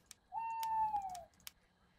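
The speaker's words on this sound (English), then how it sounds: "Well, there's an owl outside." A single owl hoot in The Boogeyman horror game, one smooth sustained call from outside, faint and alone amid scattered soft clicks.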